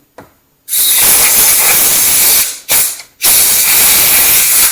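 Compressed air blasts debris out of Land Rover Defender door corners: a short puff, then a long, loud hissing burst, a brief pause and another sustained blast, up close with no speech.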